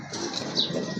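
Pigeons flap their wings in a loft where a seller keeps a large breeding pair, a steady one-second burst of fluttering feathers close by, with no voices.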